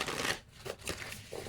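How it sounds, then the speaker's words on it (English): A deck of cards is shuffled close up, a soft riffling flutter followed by a pause and a few shorter ruffles, quiet and alone. "Let's get a shuffle going on here."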